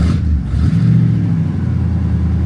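Loud, close rumble of a 1963 Ford Galaxie with a broken choke, its engine held up by blips of throttle at idle, with a rising and falling rev in the middle over a constant deep drone.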